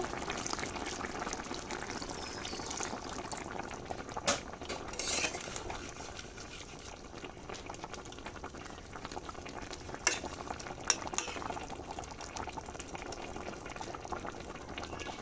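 Pieces of khorol fish cooked with Malabar spinach and a little water simmer uncovered in a pan, a steady bubbling and sizzling with occasional scrapes and clinks of a spatula, close and continuous, no voices.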